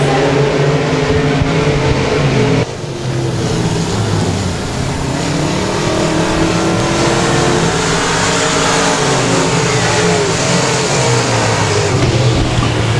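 Dirt-track race cars at Boothill Speedway roar loudly down the back straightaway, several engines snarling and rising in pitch together in a continuous howl, with a brief dip before the pack roars on.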